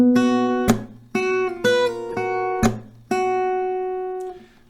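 Acoustic guitar picking the final F section of a song, with plucked single notes and ringing bass strings, a clap-like percussive slap between phrases, played close and clear with no talk.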